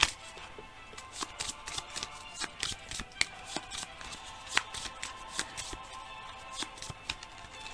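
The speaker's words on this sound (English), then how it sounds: "I shuffle my discard and draw 3 more." Cards from a James Bond deckbuilding game shuffled by hand, a steady run of crisp riffling snaps and flicks lasting several seconds, close and fairly quiet, with no speech.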